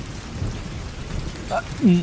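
Steady heavy rain hisses throughout, with a low rumble beneath it and a brief voice near the end.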